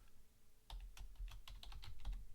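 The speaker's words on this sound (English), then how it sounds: "So let me finish typing." Typing on a computer keyboard, a quick irregular run of close, crisp key clicks starting after a short pause and continuing steadily to the end over a low background hum.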